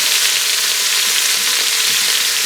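Celery, carrots and onion sauté in an Instant Pot with a loud, continuous, dense sizzling hiss that holds steady the whole time, and no voices.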